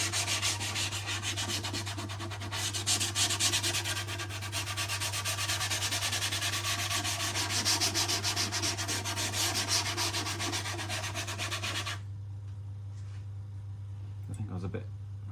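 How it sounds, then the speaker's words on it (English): 4F pumice rubbed onto a freshly varnished viola, a continuous close scratchy rubbing that runs for about twelve seconds and then stops, leaving a quiet hum and a faint sound near the end. "So this is 4F pumice that I'm adding in the hope that some of it will remain lodged in any imperfections"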